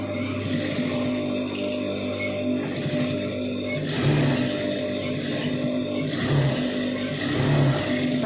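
A sewing machine stitching a side joint on a garment, a steady mechanical whir with rhythmic swells, running continuously throughout at moderate loudness without talk.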